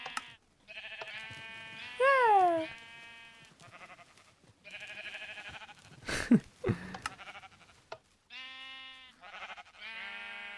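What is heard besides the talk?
sheep bleating at a sheep farm in Minecraft, video game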